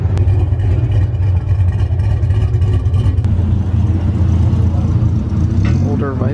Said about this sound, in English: Older Viper.